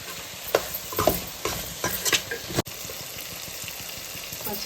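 Ingredients for a Bhimavaram-style small fish curry with mango pieces and coriander fry and get stirred in a pan, a steady close sizzle broken by several sharp scraping stirs, with no talk.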